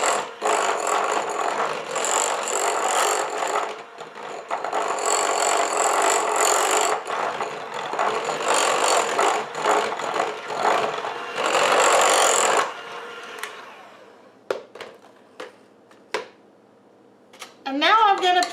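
Cocoa is mixed by hand into leftover angel food cake batter, with a fast, continuous scraping and clattering of a utensil in a bowl for several seconds, then stopping and leaving a few isolated knocks.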